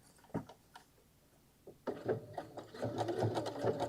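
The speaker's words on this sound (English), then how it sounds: "And then sew up along the one side and then going the other way." A sewing machine stitches a seam on a fabric wine carrier, starting with a few isolated clicks and short bursts, then running in a steady close whirring stretch.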